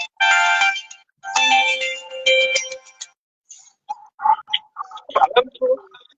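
A phone rings loudly with an incoming call, a bright electronic tone sounding in two bursts over the first three seconds. Voices and some clicks follow afterward.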